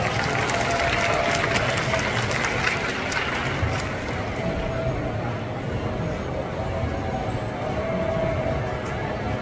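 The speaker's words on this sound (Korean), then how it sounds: "다시 한번 박수 부탁드립니다." Steady, dense applause from a large audience at a cosplay stage show fills the whole stretch, holding at a constant level with a noisy crowd murmur beneath.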